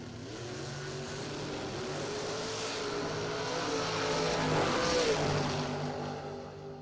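Camaro Roadster drag car launching and pulling hard down the strip, a loud roaring engine that builds steadily in volume and pitch toward a peak before easing off, with no talking.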